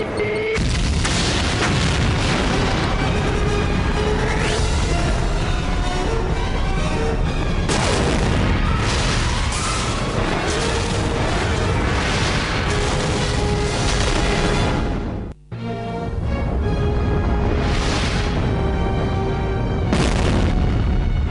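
An incendiary device attached to a transporter goes off in an animated Spider-Man cartoon, with loud, sustained booming blasts over a dense, dramatic soundtrack that fills the whole stretch.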